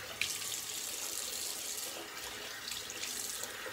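A tap pours cold water steadily into a sink for a rinse after a shave, a continuous close hiss and splash lasting the whole stretch with no talk over it.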